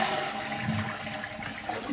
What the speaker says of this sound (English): Okay, now flush the toilet.